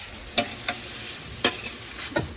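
Chopped garlic scapes sizzle steadily in a hot oiled pan, with a few sharp scraping stirs of a utensil punctuating the constant frying hiss.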